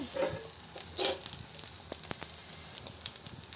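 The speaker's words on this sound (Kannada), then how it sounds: "ಸೊ ದೋಸೆ ಇಲ್ಲಿ ರೆಡಿ ಆಗ್ತಾ ಇದೆ" A dosa cooks on a hot pan with a quiet sizzle and light scattered crackles, one louder hiss burst near the start, no voices.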